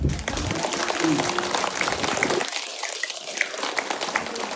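A seated audience claps together at a Buddhist talk, a dense, steady wash of applause filling the whole stretch without a break, fairly loud and close.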